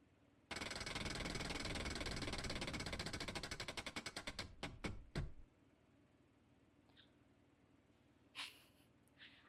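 A prize wheel spins with a fast, loud ratchet of clicks against its pointer that steadily slows into separate ticks and stops after a few seconds, followed by faint handling noises.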